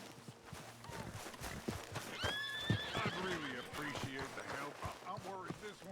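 Horse in the Western game Red Dead Redemption 2 gives a loud, shrill whinny midway, with hooves clip-clopping and shuffling around it at close range.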